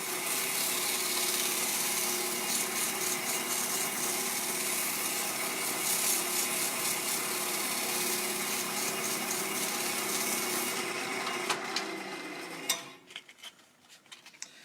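Turned wood spins on a lathe while 150 grit sandpaper is pressed against it, giving a steady, loud whirring hiss with a faint scraping texture that stops abruptly near the end.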